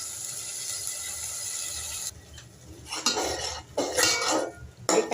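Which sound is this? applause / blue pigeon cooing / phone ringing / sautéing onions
sautéing onions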